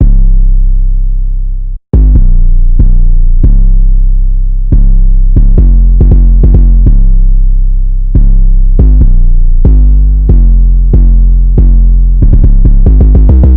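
A deep, booming 808 bass line made in FL Studio 20, with sustained low notes changing pitch in a steady rhythm, loud and alone, speeding into quicker hits near the end.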